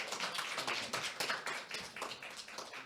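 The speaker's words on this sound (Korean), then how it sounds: "큰 박수 부탁드리겠습니다" Soft, fairly distant applause from a seated audience at an academic dictionary symposium, a quick rippling patter of many hands that swells and fades slightly over a few seconds.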